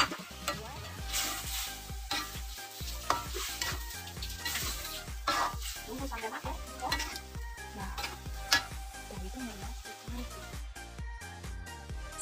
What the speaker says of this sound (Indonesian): Masukkan tomat yang sudah dipotong tadi.